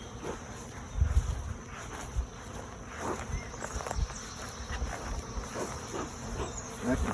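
Honey bees swarm over a beehive knocked over by a bear, a steady insect buzz hanging in the open air with occasional footsteps and rustling close by.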